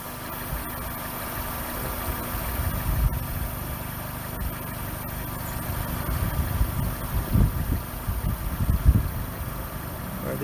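A Honda Fit engine idles steadily close by, a low continuous hum and vibration with faint rattles and slight swells in rumble as the car sits with its engine and transmission mounts under test.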